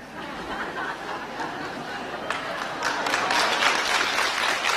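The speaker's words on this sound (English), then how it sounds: "please, don't clap" An audience applauds at a public talk by J. Krishnamurti, with scattered claps and murmurs swelling into fuller, continuous clapping over the last seconds.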